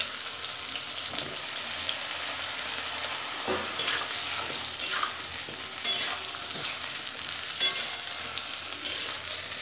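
Small pieces of salted, turmeric-coated brinjal hiss and sizzle steadily in hot oil in a wok, with a continuous close crackle broken by occasional scraping stirs.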